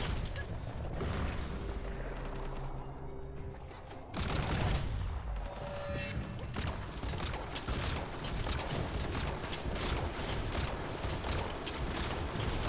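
Dense, continuous gunfire and rocket blasts from the Biomutant video game, a loud sustained barrage of rapid shots and crashing impacts running without pause, a heavier burst near the four-second mark.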